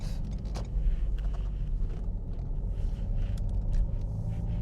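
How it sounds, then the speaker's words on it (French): A low, steady rumble of a Renault Mégane IV 1.5 dCi 110 hp diesel engine idling or cruising, with faint clicks and rattles on top. "On entend juste le moteur, mais bon, c'est un diesel."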